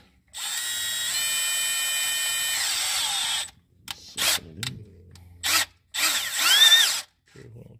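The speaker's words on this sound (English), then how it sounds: "That's the drill" A power drill whines steadily for a few seconds while drilling on a Detroit DD15 engine, then gives several short bursts and a longer final spin, up close, with small clicks in between.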